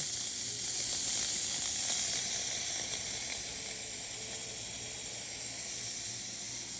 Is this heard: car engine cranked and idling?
no